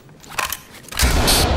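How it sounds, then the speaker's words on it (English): A flashbang grenade goes off in the tactical shooter Ready or Not: a few sharp pops and rattles come first, then a loud, close blast at about one second that stays as a harsh, sustained roar to the end. "I'm going to throw a flashbang"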